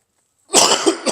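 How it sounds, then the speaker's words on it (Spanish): A preacher coughs during a sermon: one harsh, close burst followed by two shorter coughs, loud and alone with no speech. "la tos me está acabando"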